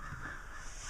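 Crows cawing outdoors during a home electrical outlet replacement, a steady, fairly faint run of calls spread through the short stretch with no voices.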